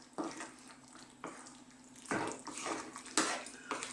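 Cold water poured into a pot of slow-cooked Indian masala beef curry, several short bursts of splashing and sizzling, close and fairly loud, with quiet pauses between pours.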